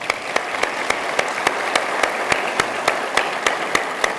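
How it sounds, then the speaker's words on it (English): Sparse, slow clapping of only a few hands, evenly spaced sharp claps over a soft background wash. "Give them a round of applause."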